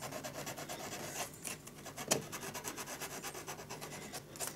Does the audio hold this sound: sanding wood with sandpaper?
yes